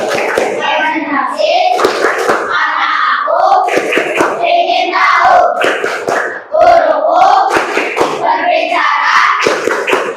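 A class of children chants in unison with rhythmic hand claps mixed in, the lively group voices dominating and the claps sounding as quick bursts beneath them.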